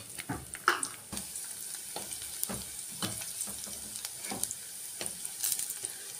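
Eggplant pieces frying in oil until deeply browned for meatless Egyptian moussaka, a soft crackling sizzle broken by repeated stirring scrapes and clatters, fairly quiet and close, with no talking.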